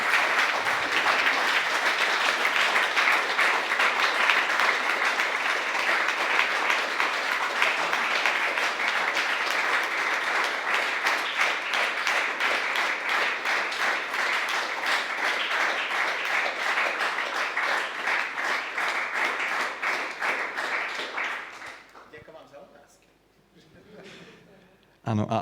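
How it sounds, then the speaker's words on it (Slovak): Sustained applause from a live audience at an art-and-church event, dense steady clapping for about twenty seconds before fading out. "Jeden veľký potlesk pre nich"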